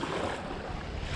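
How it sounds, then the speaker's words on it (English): Near-gale wind buffets the microphone on a kayak over choppy, whitecapped water, a dense, loud and continuous roar with a low rumble beneath it and no speech. "If you can even hear me through the wind, look at the caps on this water."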